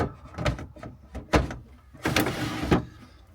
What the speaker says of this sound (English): just make sure the drawers still work